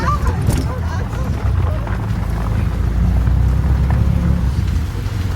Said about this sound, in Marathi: खूप वादळ वारा आणि मला तर वाटते मॅच कॅन्सल होतील